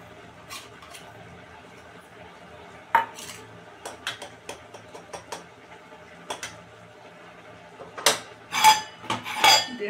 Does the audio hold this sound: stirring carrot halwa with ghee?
yes